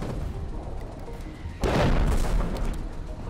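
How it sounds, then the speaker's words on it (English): A heavy storm cannon artillery shell lands in the video game Foxhole, a sudden deep boom over background battlefield noise, followed by a rumbling roll that lingers for over a second. "We're getting storm cannon now."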